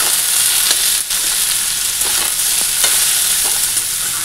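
Potatoes frying in oil in a pan make a loud, steady sizzle with occasional crackles and brief stirring scrapes throughout, no voices.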